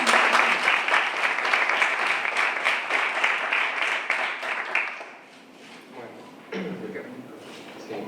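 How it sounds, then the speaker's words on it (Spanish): Sustained audience applause at an open-air poetry reading, a dense steady clatter of many hands lasting about five seconds before fading, followed by a short spoken passage and brief scattered claps. "todos vamos a hacer ahora mismo un aplauso muy merecido"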